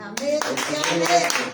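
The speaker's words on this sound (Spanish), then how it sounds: "Aplaudo al Señor" Church congregation clapping along in steady rhythmic bursts beneath a voice and responses in the room, close and lively.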